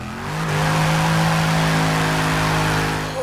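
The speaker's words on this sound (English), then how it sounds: "when you're driving an SRT Hellcat, you have to do a burnout before you go" A Dodge Challenger SRT Hellcat V8 revs hard for a burnout, its engine rising into a loud, sustained high-rpm roar with tyre noise washing underneath, held for a few seconds before easing.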